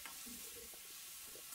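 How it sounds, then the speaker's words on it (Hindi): Onions with salt being stirred in a frying pan, a soft steady sizzle with faint scraping strokes, heard alone without talk. "नमक डालकर हम उसको हिलाते रहेंगे"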